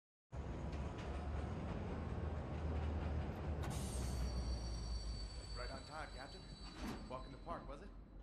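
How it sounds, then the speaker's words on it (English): A train in the video game Wolfenstein: The New Order rumbles steadily with a loud, broad mechanical roar, then eases as a brief hiss and squeal cut through, followed by voices talking. "let's get these trains moving then"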